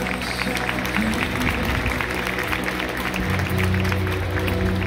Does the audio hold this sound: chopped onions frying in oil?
no